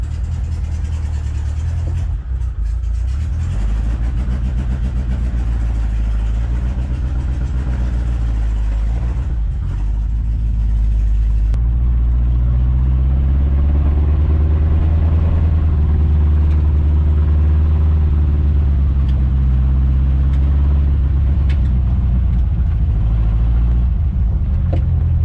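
A 1972 Volkswagen Beetle Domus pickup truck runs under its own power, its air-cooled engine droning loudly and continuously up close with rising and falling revs as it drives off.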